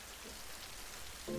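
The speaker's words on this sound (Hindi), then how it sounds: "बाहर कितनी तेज बारिश हो रही है" Heavy rain pours steadily outside, a dense even hiss of drops striking surfaces, fairly faint and continuous with no voices.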